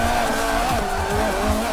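Tyres on a Renault Clio Williams squeal and skid through a corner in Forza 7, a continuous loud screech over engine noise, close and steady for under two seconds.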